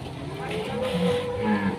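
A large Simmental cross bull at the Jelok livestock market in Boyolali gives a low, close moo, with faint market murmur behind it.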